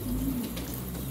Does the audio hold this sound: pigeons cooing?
yes